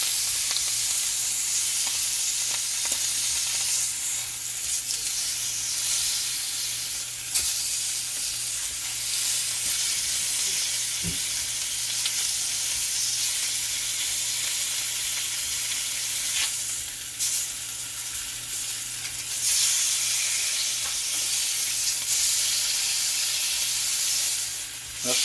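Steak searing in a hot cast iron pot gives a loud, steady sizzle with dense hiss that runs without a break, with a few brief surges and small pops as the meat shifts.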